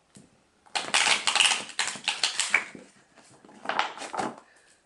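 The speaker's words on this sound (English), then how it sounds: "Do a quick shuffle." Tarot cards being shuffled in quick bursts of crisp, riffling flutters, close by, with short pauses between bursts.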